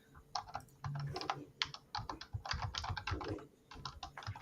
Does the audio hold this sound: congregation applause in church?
no